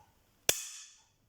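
A shotgun breaking open as its two ejectors flick out the empty cartridges, heard as one sharp metallic snap with a brief ringing tail, loud and close.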